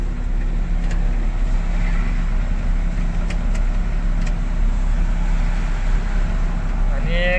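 A truck cruises along the Samruddhi highway with a loud, constant low engine drone and road rumble in the cab, unbroken throughout, with a voice heard faintly near the end.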